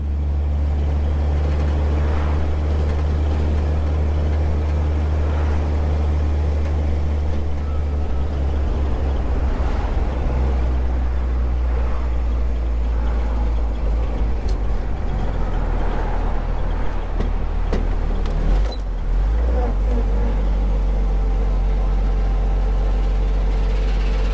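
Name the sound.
1934 Dodge car engine running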